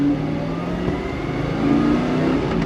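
A Chevrolet Chevelle SS engine revs on throttle with a steady low rumble that climbs in pitch, dips briefly, then swells louder again, heard from close by inside the car.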